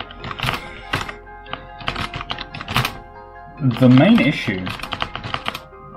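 Typing on a cheap $7 Five Below gaming keyboard: loud, clattery keystrokes in quick irregular bursts, close up, with someone talking over part of it.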